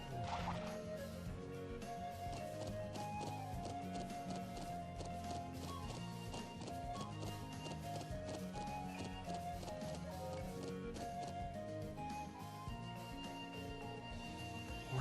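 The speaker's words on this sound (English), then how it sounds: "We're to travel to the settlement on horseback?" Horses trot along with a steady, repeated clip-clop of hooves in the game The Legend of Heroes: Trails of Cold Steel, heard quietly beneath ongoing game music.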